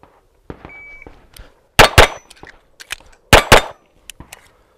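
Pistol shots striking an Action Target static steel target, several sharp loud cracks in quick bursts with ringing metallic clangs and smaller ticks between them, no talk.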